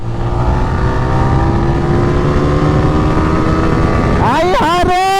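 Yamaha R15 motorcycles in a street drag race hold a loud, steady engine drone, then rev sharply upward in a rising whine near the end.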